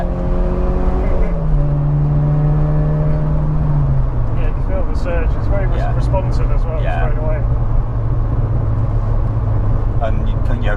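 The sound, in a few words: 1983 VW Golf GTI engine accelerating while driving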